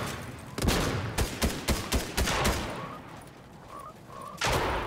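Rapid gunfire in Fortnite, a burst of sharp shots in quick succession followed by a few spaced single cracks and a final loud blast, close and punchy with no talking.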